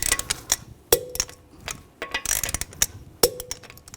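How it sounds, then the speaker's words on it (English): Lug bolts on a 2009-2010 BMW 535 xDrive wheel being torqued to 90 foot-pounds in a cross pattern, giving a series of sharp, close metallic wrench clicks and ratcheting ticks in irregular bursts. "Now we're going to torque the lug bolts down to 90 foot-pounds in a cross pattern to tighten the wheel down evenly."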